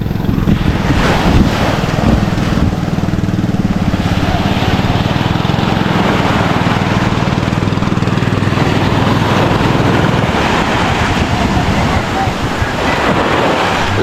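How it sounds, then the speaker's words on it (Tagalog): A motor boat approaching at sea drones steadily under heavy wind buffeting and crashing surf, its low engine hum fading near the end while a voice may come through faintly. "merong bangka na paparating"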